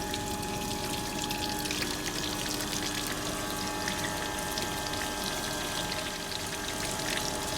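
Water flows steadily into a pitot-static tube apparatus in a lab, a constant broadband pouring and trickling that holds at an even level throughout with no talk.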